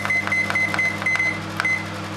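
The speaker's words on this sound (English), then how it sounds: "Okay, so we're just gonna leave this to cook," A microwave oven cooking a sponge pudding gives off a steady low hum, with a faint high tone and soft periodic ticks running through it at close range, and no voices.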